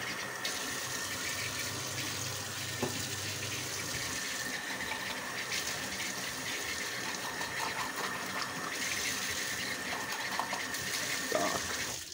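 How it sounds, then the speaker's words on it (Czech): Water runs steadily from a tap into a container in a kitchen, producing a continuous hissing gush with faint clinks. "Do tohle napustíme vodu."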